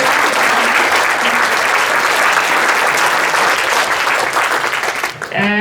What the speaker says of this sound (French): Une bonne main d'applaudissements pour les gens qui ont posé des questions.